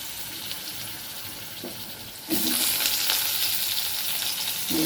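Potatoes drop into a wok of hot oil already holding a dried chili and whole cumin seeds. A loud, steady sizzle of frying bursts up partway through and keeps going close by.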